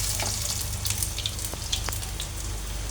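Onion fritters (peyaju) sizzle and crackle steadily in hot oil in a pan, a continuous close frying hiss with scattered pops and no talking.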